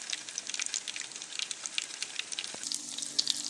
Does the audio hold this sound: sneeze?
no